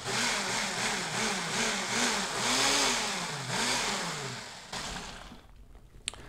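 A food processor pulses pizza sauce ingredients in a few loud motor bursts whose whir rises and falls in pitch, then cuts out and leaves quiet clatter.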